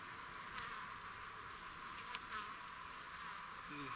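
Agitated honeybees swarm around a newly installed hive colony after a few were crushed. A faint, continuous buzzing drone holds throughout, with no voices.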